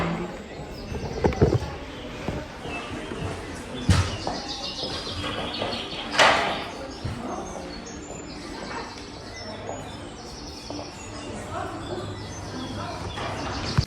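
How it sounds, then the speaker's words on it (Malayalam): Recorded birdsong played over speakers inside an IKEA store in Reims, France, faint chirps and tweets scattered through a busy indoor hum, with occasional louder knocks and clatter and shoppers' voices in the background. "അതിൽ തന്നെ ഓട്ടോമാറ്റിക് സൗണ്ട് ഒക്കെ ഉണ്ട് കിളികളുടെ,"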